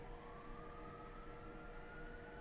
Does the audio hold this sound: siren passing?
yes